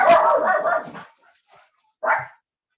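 Dogs bark loudly and close by in a burst lasting about a second, then a single shorter bark follows after a pause.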